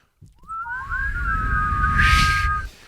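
A person on a podcast attempts a whistle: one wavering, sustained tone lasting about two seconds, moderately loud over a low rumble of room noise.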